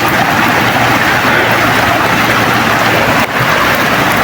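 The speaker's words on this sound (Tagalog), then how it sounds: "Lakas talaga ng ulan." Heavy rain pours down in a loud, unbroken roar, drumming steadily on surfaces close by.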